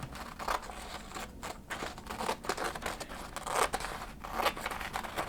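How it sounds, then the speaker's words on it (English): Scissors snipping through paper in repeated crisp straight cuts, close by, cutting a paper snowflake design, with light crinkling of the sheet between strokes. "And enjoy the sounds of the cutting of the paper."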